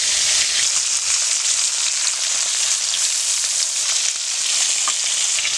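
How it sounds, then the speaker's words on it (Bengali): Fish fried in hot mustard oil seasoned with salt and turmeric in a wok, a steady loud sizzle and crackle that holds unbroken from start to finish, with no talking. "তেলটা আমার গরম হয়ে গেছে, আমি এক এক করে মাছগুলো দিয়ে দিচ্ছি।"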